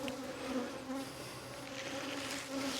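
Bees swarming around a heavy hive box being lifted, a close, dense, continuous buzzing drone that holds steady and fairly quiet with no voices.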